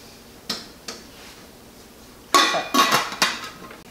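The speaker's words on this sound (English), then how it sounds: "going to stir that up, and we're going to let it simmer for about 10 minutes" A spoon stirring a creamy winter vegetable soup in a pot: two isolated clinks, then a quick cluster of louder scraping knocks against the metal, close and alone.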